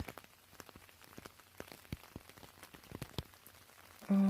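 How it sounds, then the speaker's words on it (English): Light rain falling, a soft scattered patter of drops on a surface with irregular individual taps, fairly faint and close, ending in a brief louder tonal sound. "It's raining."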